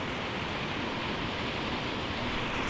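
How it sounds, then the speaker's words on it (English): Rushing water roars in a steady, close, unbroken hiss at the top of a waterfall by Avalanche Lake near Lake Tahoe, with no talking. "This is the top of where the waterfall starts."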